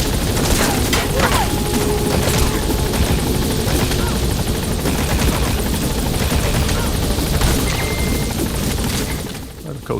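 A helicopter in Metal Gear Solid V keeps up a loud, continuous rotor roar with scattered thumps and cracks mixed in, dropping off briefly near the end.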